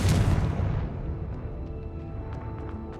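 A Confringo explosive spell cast in the video game Hogwarts Legacy bursts with a loud booming blast at the start, then its rumble fades into a lingering tail with faint magical chimes.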